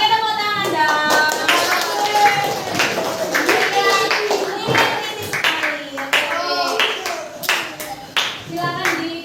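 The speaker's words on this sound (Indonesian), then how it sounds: "Oke, tepuk tangan dong" Clapping from a class of primary-school children in a Surabaya classroom, close and uneven bursts of hand claps over several seconds with children's voices and chatter mixed in.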